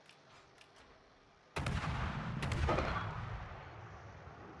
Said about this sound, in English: Looks like Larry's going to be pulling the trigger on the guns here.